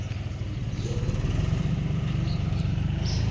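A household farm tractor engine running steadily nearby, a loud, continuous low chugging rumble with an even pulsing beat and no voices.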